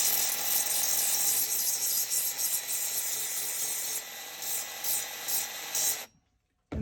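Band file sander grinding down a raised portion of steel on a chainsaw bar, a steady close buzzing whine that runs continuously, wavers slightly, then cuts off near the end.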